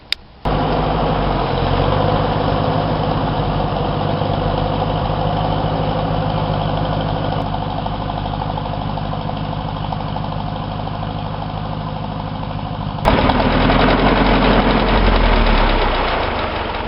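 A tractor engine idles with a low, throbbing rumble, running continuously in a potato field, then grows slightly louder near the end.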